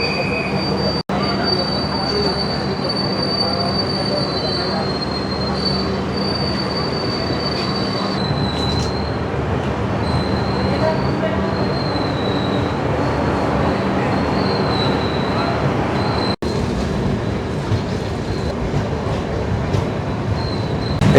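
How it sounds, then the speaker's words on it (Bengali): The Shalimar–Puri train rolls steadily out of the station at night, a loud continuous rumble of wheels and carriage noise with high squealing from the rails and a couple of sharp clunks. "ট্রেন এখান থেকে ডিপার্ট করে দিল"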